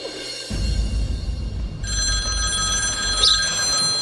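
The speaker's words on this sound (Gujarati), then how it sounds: "આ કોનો ફોન આવ્યો?" A telephone rings during a Gujarati comedy sketch. A steady electronic ring tone starts partway through and keeps going over a dense, rumbling background, with no one talking.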